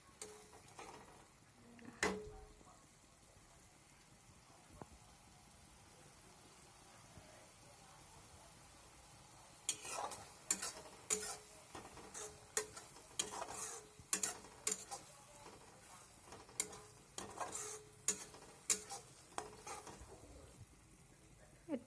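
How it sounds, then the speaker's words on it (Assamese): Mustard seeds frying in a wok while being stirred: a quiet stretch of faint scraping, then a run of sharp, scattered crackling pops that grows busier toward the end. "এইদৰে এতিয়া আমি লৰাই লৰাই কিছু সময় ভাজি থাকিম, যেতিয়ালৈকে সৰিয়হখিনিয়ে এইদৰে ফুট ফুটকৈ উঠি নাহে কেৰাহীখনৰ পৰা"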